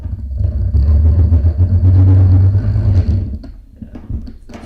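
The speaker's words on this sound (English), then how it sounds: "It's grinding like crazy because there's nothing supporting this." A Sioux 1560-2MT tool running unsupported and grinding hard, a loud low rumbling drone that holds steady for about three seconds, then drops away into quieter, uneven mechanical noise.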